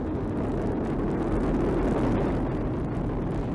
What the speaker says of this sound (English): Four RS-25 engines on the core stage and two solid rocket boosters now propelling the vehicle